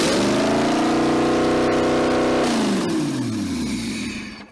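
A Toyota 1UZ V8 swapped into a vehicle and run on a standalone ECU holds a loud, steady, droning idle close by, then its pitch sags and the sound trails off toward the end.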